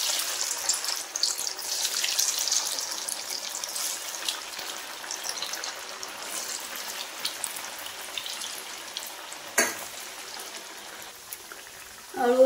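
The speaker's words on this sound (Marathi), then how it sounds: "आता यात एक एक आळूवडी टाकून आपल्याला छानशी फ्राय करून घ्यायची आहे" Alu vadi pieces, colocasia leaf rolls, slipped one by one into hot oil give off a soft, even hiss of frying, fairly faint, with a sharp tap near the end.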